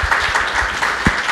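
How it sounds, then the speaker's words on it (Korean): Audience applause at a Korean book talk event, a dense wash of clapping filling the room for a brief moment, steady and moderately loud with a low thump near the end. "박수."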